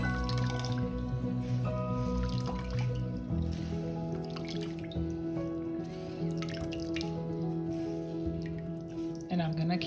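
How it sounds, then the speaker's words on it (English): Liquid for arroz con dulce being strained and dripping in a home kitchen, with soft, quiet, irregular drips and wet squishing at low level under a steady background hum. "I'm gonna keep straining this to get as much as I can out"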